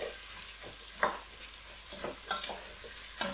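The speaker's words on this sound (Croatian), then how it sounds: "Sve skupa ovako promiješati." Canned white beans being stirred in a pot for a quick pasta e fagioli, giving soft wet scraping and squelching strokes in an uneven rhythm, close and moderately loud with no talking.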